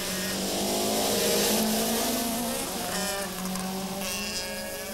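BMW and Peugeot touring cars race around the Zolder circuit in 1994, engines roaring loud and near with rising and falling pitch as they pass and accelerate.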